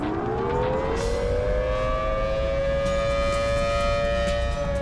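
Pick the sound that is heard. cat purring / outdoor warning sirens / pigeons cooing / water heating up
outdoor warning sirens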